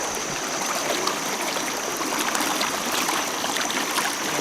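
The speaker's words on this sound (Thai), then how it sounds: "ลองฟังเสียงน้ำตก ดูดิ" Rushing water pours continuously, a steady broadband roar like a nearby waterfall or cascade, with no voices.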